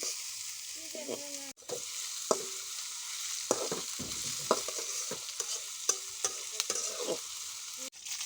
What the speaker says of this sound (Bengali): যতক্ষণ বাদামি কালার একটা কালার না আসে ততক্ষণ নাড়তেই থাকবো আস্তে আস্তে করে।